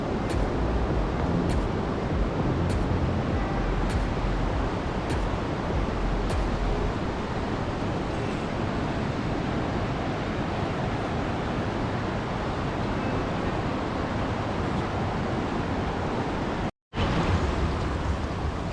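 The Parvati River near Kasol rushes loudly and steadily beside a dirt path, a dense, continuous roar of flowing water that fills the whole scene with no voices.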